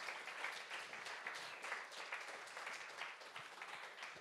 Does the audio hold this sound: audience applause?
yes